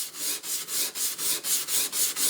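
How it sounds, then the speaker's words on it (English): A forged feather-pattern chef knife is drawn across the coarse side of a whetstone in a steady rhythm of about nine gritty, hissing strokes, close and alone. "I'm just currently on the coarse side of the stone"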